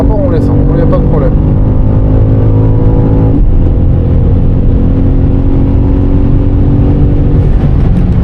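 BMW M5 CS engine accelerating hard along a race circuit straight, with a gear shift around the middle and steady loud in-car engine drone throughout; someone talks over it.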